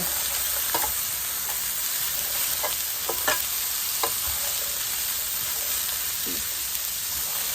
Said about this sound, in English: Now we are going to sit here and saute the sofrito.